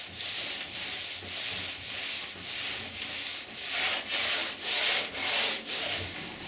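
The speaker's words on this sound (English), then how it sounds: "After a night of curing, I hand sand." Rhythmic hand sanding of cured polyurethane varnish on a kayak: about nine even, scratchy back-and-forth strokes in a steady cadence, close and fairly loud, no talking.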